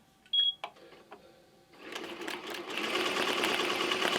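Embroidery machine stitching a design on a cap: a few soft clicks and a brief beep, then the machine starts up into a steady, rapid mechanical chatter that grows louder and continues without pause.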